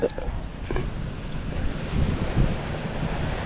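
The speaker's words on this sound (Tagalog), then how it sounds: "Ayan ang dagat." Sea waves wash against the shore under steady gusts of wind buffeting the microphone, a continuous rough roar throughout.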